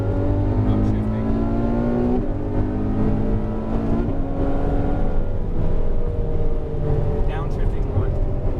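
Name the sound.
Ferrari F12 engine upshifting on a race track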